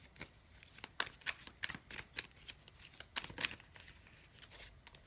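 Tarot cards are shuffled in a run of quick crisp riffles and papery flicks, close and fairly quiet, with no speech over them.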